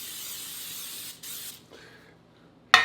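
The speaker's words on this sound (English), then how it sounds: "we're going to first spray our 9-inch pan with some nonstick spray" Nonstick cooking spray hisses onto a 9-inch baking pan in a steady, fairly quiet burst lasting over a second, then tapers off before a sharp clatter near the end.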